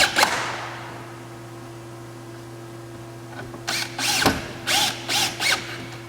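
A power drill drives screws into the brackets of a swim spa cover: one sharp burst early on over a steady hum, then a run of short trigger pulls, whirring in close bursts.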